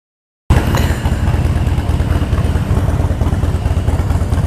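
Motorcycle engine running after a sudden start, a loud near idle with a fast, even low-pitched pulsing throb and mechanical clatter.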